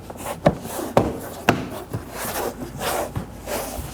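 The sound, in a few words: Nissan Sentra door panel clips clicking into place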